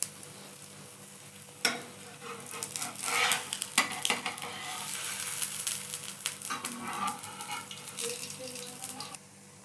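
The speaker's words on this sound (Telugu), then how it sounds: "ప్యాన్ పెట్టుకున్నాక అది వేడిగా అయిన తర్వాత దీని మీద మనం వేసుకొని దీని చుట్టూ మనం ఆయిల్ అనేది వేసుకుందాం" Bakshalu flatbread roasts in oil on a hot pan with a soft sizzle, while a spatula scrapes and clinks against the metal in scattered bursts, close and moderately loud with no talking.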